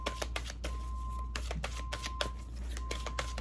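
Tarot cards are shuffled by hand, making a steady run of crisp riffling snaps over a low constant hum, with no voices.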